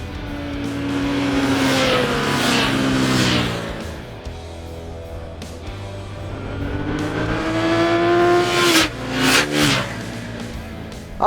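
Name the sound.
naked sport motorcycles riding: Aprilia Shiver 900, Kawasaki Z900, Suzuki GSX-S750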